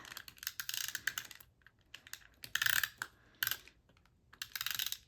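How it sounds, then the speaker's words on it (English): A tape runner clicks and rasps in short bursts as tape is applied to pages of a book journal, several separate dry crackling strokes with brief pauses between them, close and fairly quiet, with no talking. "let's see if the tape runner works for this month"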